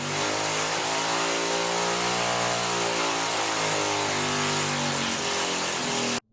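A Lifan small engine with the governor removed, 32 degrees of ignition advance, a straight pipe and an air horn runs on a test stand, a loud, steady, buzzing drone held at high revs that cuts off abruptly at the end.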